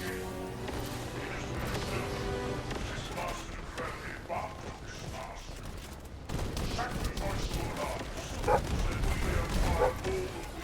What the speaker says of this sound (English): Now you might be hearing my dog.